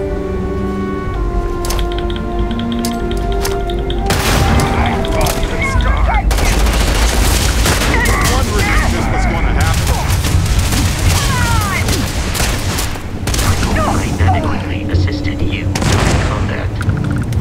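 Gunfire in the space RPG Starfield: loud, dense bursts of rapid shots and booms in an ongoing firefight, with a voice speaking over the combat.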